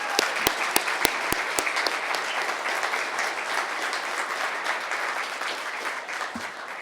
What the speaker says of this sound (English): How about one round of applause for all the recipients who've been recognized?